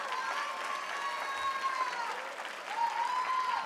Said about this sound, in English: I want to give her a round of applause for her.